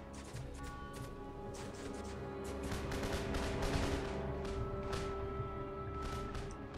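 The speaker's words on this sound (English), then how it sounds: "fire another set of shots into these mortar crews" Artillery fire from cannon batteries shelling mortar crews on a battlefield in Empire Total War, Bavaria campaign: a run of sharp, echoing shots and crashes that thicken into a steady, rolling barrage over a rumbling battle bed.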